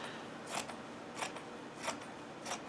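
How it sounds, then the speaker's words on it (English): Scissors snip through two overlapped layers of quilt batting, four soft, evenly spaced cuts roughly half a second apart, close and quiet with no voices. "just take the scissors, you can rotary cut, and in between the overlap, down the center of that overlap, you're going to cut through the two pieces."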